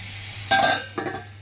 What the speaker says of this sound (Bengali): এই যে পটলগুলো কেটে নাও, ভাজতে বসিয়েছি